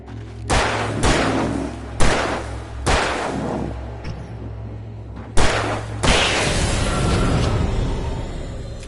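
Gunfire in the video game Alan Wake Remastered: about seven sharp, loud shots ring out at uneven intervals, each with a short echoing tail, over a low steady background hum.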